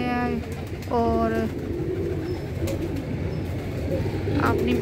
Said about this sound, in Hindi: तो ये कबूतर हैं उड़ रहे हैं